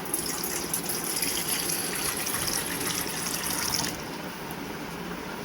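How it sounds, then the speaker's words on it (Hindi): A glass of clean water poured into a bowl, a steady gushing splash for about four seconds that then thins to a softer trickle, close and fairly loud with no talk. "एक बाउल लीजिए और बाउल में 1 गिलास स्वच्छ जल ले लीजिए"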